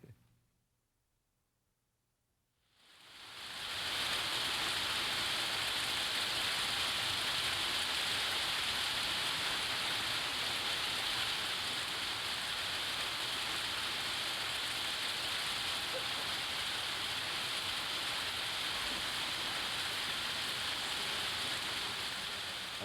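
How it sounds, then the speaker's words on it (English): Steady, close rain pours down as a dense, unbroken hiss on Memorial Day, starting abruptly after a few seconds of near silence and holding constant, with no voices. "Well, it's raining again"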